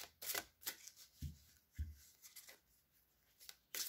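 Oracle cards being shuffled and drawn by hand during a tarot-style reading: a few soft, papery riffles and flicks come in brief bursts with quiet gaps between them, and no one speaks.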